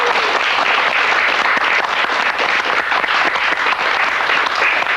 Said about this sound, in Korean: 박수 좀 부탁드릴까요?